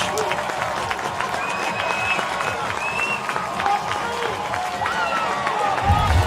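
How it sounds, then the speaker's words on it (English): A crowd at an NCAA first-round college lacrosse game between Yale and St. Joe's roars and cheers steadily throughout, with a commentator talking over the noise. "That lights up this crowd from Philadelphia, and that's St. Joe's bench."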